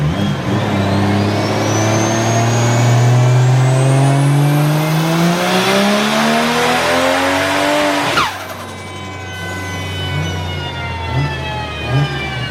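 Tuned high-power car engine revving hard through a dyno pull, loud and rising in pitch for about eight seconds with a brief stumble from a misfire, then dropping abruptly to a rough, lumpy idle.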